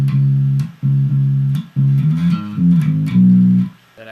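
Bass guitar fill, with three repeated sustained low notes followed by gliding slides between pitches, clear and close, ending in a held note.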